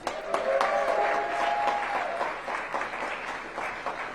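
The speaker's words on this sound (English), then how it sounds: "Give Sheila a big round of applause." Audience applause at a restaurant ribbon-cutting ceremony, a steady burst of many hands clapping close and loud that fades slightly toward the end, with a brief faint voice early on.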